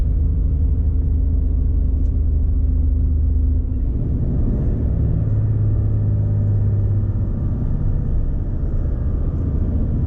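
An HGV truck engine runs on a chilly UK morning, a steady, loud, low rumble that shifts slightly partway through, with no talking.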